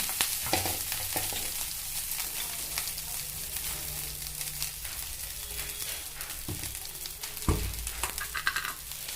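Ragi vermicelli tossed with onions and dal in a hot pan, giving a steady close sizzle with scraping stirs and a few sharper clanks of the spoon against the pan, no voices.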